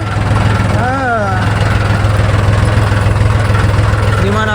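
A tractor engine idles steadily in a village at dusk, a loud continuous low rumble throughout, with people talking over it.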